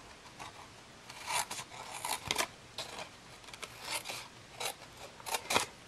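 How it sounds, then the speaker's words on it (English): Scissors snip through paper along score lines on a template for a jumbo tea light box, a series of short crisp cuts in irregular bursts, close and fairly quiet. "I'm going to cut these 2 score lines"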